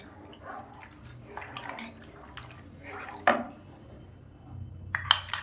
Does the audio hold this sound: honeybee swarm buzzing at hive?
no